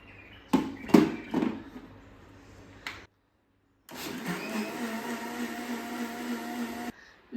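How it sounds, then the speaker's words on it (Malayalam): A mixer grinder blends milk with Boost: a few short loud bursts, a pause, then a steady, close whirring run of about three seconds. "ശരിക്കും പിടിക്കട്ടോ മിക്സി അല്ലെങ്കിൽ തെറിച്ച് പോവുന്ന."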